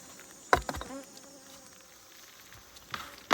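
Honey bees buzz around a hive on a shaded outdoor stand, a steady faint drone with individual insects passing close, broken by a few sharp clicks and knocks of handling.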